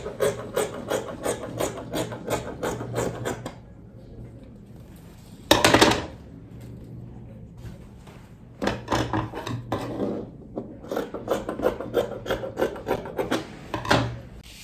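Scissors trim dress fabric in rapid bursts of rhythmic snipping and rasping cuts, with a pause and a brief louder rustle midway before the snipping resumes, close and clear with no talking.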